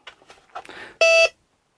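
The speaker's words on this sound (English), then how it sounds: "And it even beeps when I'm turning it off." A few soft clicks and rustles, then a single short electronic beep, clear and close, from a cheap Hadwin metal detector being switched off, before silence.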